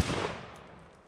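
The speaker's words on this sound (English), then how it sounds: "we're going to pattern the gun and just see how tight a pattern we get when we actually shoot it" A GForce Arms GFZ shotgun fires a single round of double-aught buckshot outdoors, a loud, close blast that rings out and decays over about a second.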